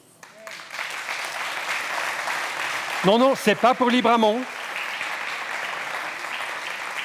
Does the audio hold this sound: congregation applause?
yes